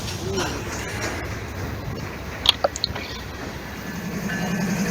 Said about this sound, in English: We've got a massive CXX Manifest train.